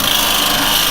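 A square carbide chisel cutting wood on a lathe, a continuous close rough scraping and rasping hiss with even loudness throughout, no talking.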